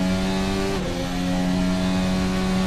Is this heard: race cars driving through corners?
yes